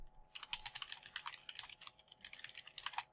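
Rapid, steady typing on a computer keyboard, with dense clicking keystrokes running almost continuously and close up, alone and with no talking.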